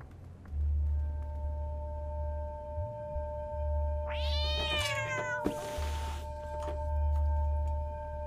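A cat in the video game Stray lets out a couple of clear, drawn-out meows midway, set against a steady low electronic hum and tones.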